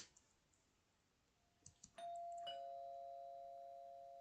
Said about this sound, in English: The sudden sound of my doorbell startles me.